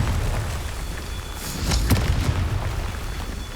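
A fiery Confringo spell explosion in Hogwarts Legacy booms out over a steady low game rumble, swelling in the middle with a sharp burst and then settling back.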